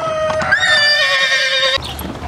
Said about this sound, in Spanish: Caballo de mucho brío, ¿eh? Está fuerte el caballo, ¿eh?